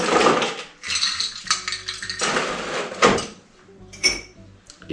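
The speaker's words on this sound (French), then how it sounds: "On rajoute la glace." Ice is dropped into a cocktail mixing glass for a cognac drink, giving a series of bright clinks and rattles in several separate bursts, close and fairly loud with quiet gaps between.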